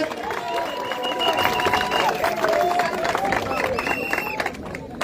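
Audience at a teachers' general assembly applauds in a sustained, broad wash of clapping, while a voice keeps talking over it.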